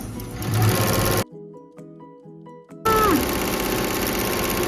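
An embroidery machine stitches a satin stitch on a Gorilla Tag mask, its steady loud mechanical chatter stopping for a quieter stretch with faint tonal beeps before the rapid stitching resumes.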